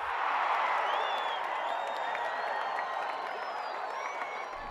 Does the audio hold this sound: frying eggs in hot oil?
no